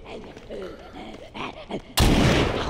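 A shotgun blast in a VR video game hits loud and close, a sudden broadband boom near the end that keeps roaring afterward, with faint talk murmuring before it.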